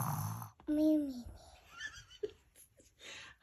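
A young girl imitates her dad's snoring with a drawn-out nasal snort and wheezy breaths, followed by giggles and soft laughter nearby.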